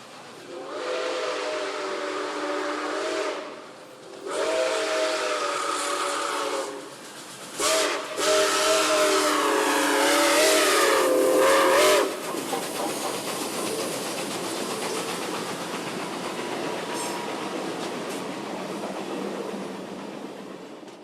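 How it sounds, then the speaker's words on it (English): Nickel Plate 765, a big steam locomotive, sounds its whistle in long loud blasts with a wavering pitch, then runs on with a steady rumbling chuff and hiss, heard alone and close. "see a big steam engine in action"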